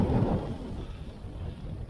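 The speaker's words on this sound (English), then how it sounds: "More wind, always more wind." Wind rushes across a hiking trail in Waubonsie State Park and buffets the microphone, producing a loud, continuous low roar that lasts the full two seconds without any voices.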